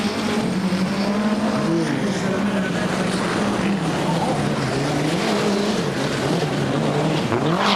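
A 1988 rally car, a Peugeot 205 or Lancia Delta, roars and revs hard through a hairpin, the engine note rising and falling loudly and continuously under a commentator's voice.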